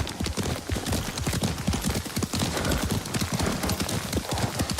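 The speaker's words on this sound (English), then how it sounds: "Lord Sakai taught me to ride a horse" Horse hooves in Ghost of Tsushima, a steady fast clip-clop of a ridden horse, loud and close, continuing without pause and with no speech.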